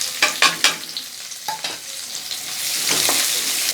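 Finely chopped large onion sautés in hot oil for mushroom kurma, opening with a few sharp clattering drops and stirs, then a rising steady sizzle that fills the last second, no talk.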